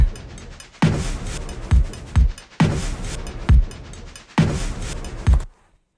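A stripped-back drum beat with flute and guitars removed, punchy kicks and a steady hi-hat pattern that loops several times, then cuts off abruptly.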